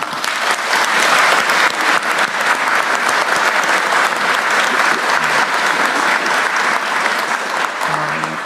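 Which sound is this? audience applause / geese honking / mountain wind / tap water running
audience applause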